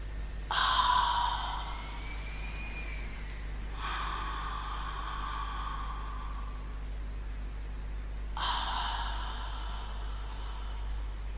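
Three long, audible abdominal exhalations, each a breathy, hazy sigh like fogging a mirror, come close and alone at a slow, even pace with pauses between them, the first one the loudest.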